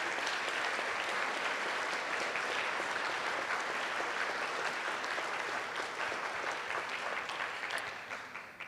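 Church congregation applauding at a Lutheran congregational meeting, a dense, continuous wash of many hands clapping at moderate loudness that holds steady and only starts to fade at the very end.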